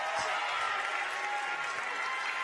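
Chapel audience giving a round of applause, a steady broad wash of many hands clapping at moderate distance, continuous and even throughout.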